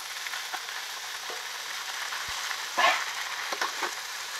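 Pumpkin, potato and pui shak leaves frying in a pan with turmeric and slit green chillies, a soft, moderate sizzle with a few scattered crackles and one brief louder burst of spattering.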